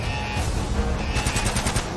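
Gunfire from a firefight in the action video game Uncharted: Drake's Fortune, a dense continuous burst of rapid automatic shots with sharper cracks near the end, loud and with no talk over it.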